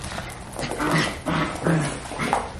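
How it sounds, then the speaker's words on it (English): A Goldendoodle puppy barks and yips in a few short bursts close by, with some background noise between them. "Blossom, what are you barking at?"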